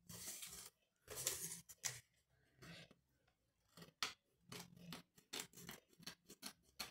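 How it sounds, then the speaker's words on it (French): Scissors snip through paper during a craft project, making crisp, close cutting sounds in irregular bursts of several quick snips separated by short pauses, with no talking. "Donc j'ai pris une paire de ciseaux."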